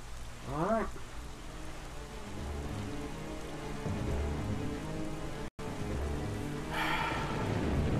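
Steady rain patters in Zelda: The Wind Waker HD while sailing at night, a constant hiss with low rumbling underneath and a short rising musical flourish near the start.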